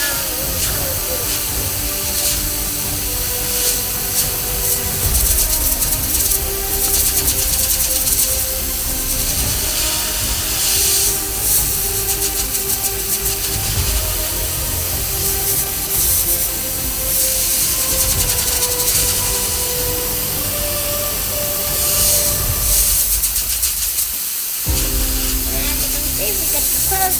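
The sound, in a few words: steam cleaner hissing while cleaning jewelry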